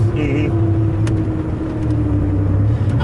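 A 2002 Dodge Viper RT/10 engine lugs in fifth gear at about 1,500 RPM, giving a steady, close, low rumble that holds even and loud throughout with no voices.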